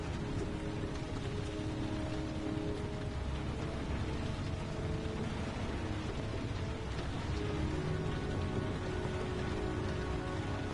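Heavy, steady rain in the Heavy Rain video game, a dense, continuous hiss of downpour that holds at an even loudness throughout, with no other sound standing out.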